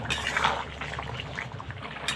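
Stinging catfish and bottle gourd curry pours into a pot with a soft, brief liquid splash and slosh. A quiet bubbling trickle follows at close range.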